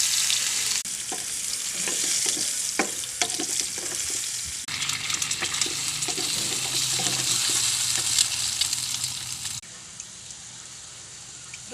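Egg, sausage and vegetables fry in a pan with a loud, steady sizzle and crackle, punctuated by occasional stirring clacks, before the hiss drops lower near the end.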